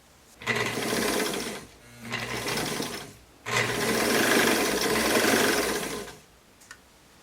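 A sewing machine stitching trousers whirs close by in three bursts of rapid mechanical chatter, the last one long and steady, separated by brief pauses.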